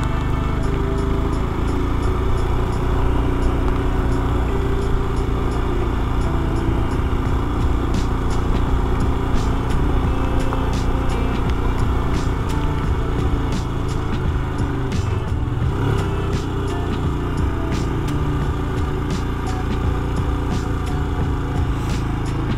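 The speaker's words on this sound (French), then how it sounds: "Mon moteur à 5000 tours, hein, ça va pas." A motorcycle engine held at high revs, around 5000 rpm, on a mountain road near Toulon, droning loudly and steadily with wind noise and no break throughout.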